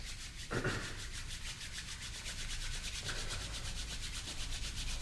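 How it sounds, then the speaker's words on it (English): Palms rubbed briskly together during a Kundalini breathing practice, giving a steady close friction hiss that runs for several seconds with no speech. "palms together and rub them briskly"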